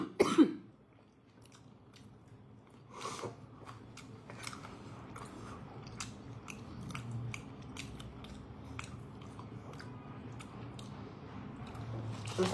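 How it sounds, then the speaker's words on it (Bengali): A person troubled by a cough while eating snacks such as a frozen Chinese chicken cone gives a sharp cough at the start and another a few seconds later, followed by quiet clicks and small mouth sounds. "আমার কাশিটা আমাকে খুব জ্বালাচ্ছে।"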